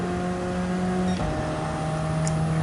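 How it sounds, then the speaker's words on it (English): A race car engine in Gran Turismo 7 at Watkins Glen holds a steady high-pitched drone, with a brief shift in pitch midway, loud and without talk. "Need to stop revving it so much."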